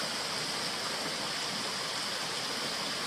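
River water flowing steadily along a railway line in Indonesia, a dense, constant rushing wash that stays loud and even throughout with no voices.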